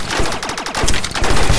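Rapid automatic gunfire from a battle royale video game, dense bursts of loud shots packed closely together across the whole moment with no talking over them.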